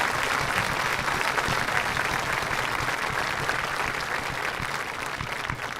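Audience applause at a senior awards ceremony, dense steady clapping from a large crowd filling the room, sustained at an even level without pause.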